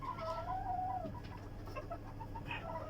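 Chickens on a farm, being given medicine drops, cluck softly at close range, with one drawn-out, wavering call followed by short scattered clucks over a low, quiet background.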